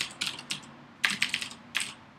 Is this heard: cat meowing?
no